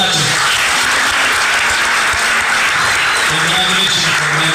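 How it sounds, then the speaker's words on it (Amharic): An audience applauds loudly and steadily for a ticket winner at a raffle-style event, a dense wash of clapping that runs without a break throughout. "አጨብጭቡላቸው።"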